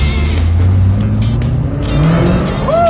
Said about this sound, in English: That was like half throttle, dude. I like it. Tire slip.